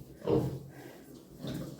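A loud pig grunt in a barn near the start, then a quieter grunting snort about a second later, close by with a pause of near silence between.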